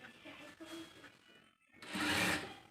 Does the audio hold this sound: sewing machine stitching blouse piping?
yes